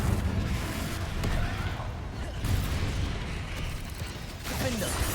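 A Confringo blasting spell fired in Hogwarts Legacy, heard as a loud, dense burst of crackling, booming impacts over a steady rumbling game mix across the whole stretch.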